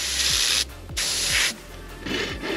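Short hissing bursts of opaque white spray paint, three close sprays separated by brief pauses, with faint clicks of the nozzle between them.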